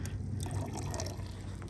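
Water pours into a container for a brief moment, a soft continuous liquid filling sound with low rumble underneath, faint and close.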